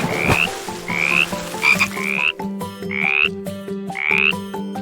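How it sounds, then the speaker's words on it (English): Frogs croak in a steady, repeating chorus, rising chirps mixed with deep rhythmic croaks, loud and close. "watched the frogs return to their pond, hopping and croaking with joy"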